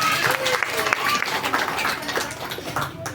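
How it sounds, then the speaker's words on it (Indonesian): Applause for kindergarten children at the opening of a state kindergarten, a brief patter of clapping mixed with lively children's voices and movement, busy and close throughout. "Tepuk tangan untuk anak"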